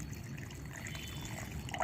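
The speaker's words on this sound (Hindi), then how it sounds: "तो मैंने 1 लीटर इसमें पानी डाल दिया है।" Water trickling steadily into a pot of mustard cake fertilizer, a continuous close liquid pour with soft gurgling and no voices.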